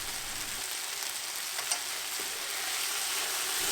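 Stock poured into a hot pan of mushroom ragout just after a white wine deglaze, producing a steady close hiss and sizzle that holds evenly and swells slightly toward the end.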